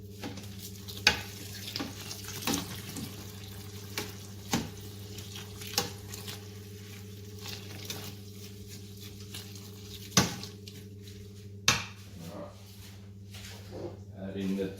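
Hot water stirred into a brewing mash for a red ale, with a steady liquid churn and scattered sharp clicks and knocks of a paddle against the vessel, close up and fairly quiet.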